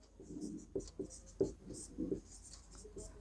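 Hand writing on paper while working through a class 10 maths linear-equations problem: a quiet sequence of short scratchy pen strokes in an irregular rhythm, close up, with no talk.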